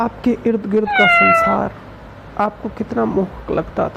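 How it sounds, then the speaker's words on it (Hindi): A cat gives one clear, drawn-out meow partway through while someone talks before and after it. "म्याऊं करती हुई बिल्ली को"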